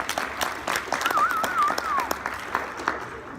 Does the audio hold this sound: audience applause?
yes